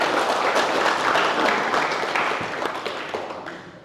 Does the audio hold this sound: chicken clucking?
no